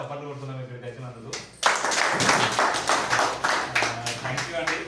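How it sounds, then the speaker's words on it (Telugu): A seated group at a village meeting bursts into rhythmic clapping after someone speaks, the claps close, fast and even, continuing for about three seconds. "మళ్ళీ పాత ఒకసారి మనం చప్పట్లు కొడుతున్నాం ఇక్కడికి వచ్చినందుకు"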